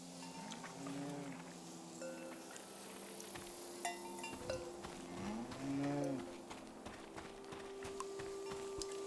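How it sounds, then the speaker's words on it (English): A cow moos twice in a farm scene from the video game Season: A Letter to the Future, long low calls standing out against quiet ambient tones, faint clinks and soft hoof-like clops. "You are a cow and you are named Krasnahorkai"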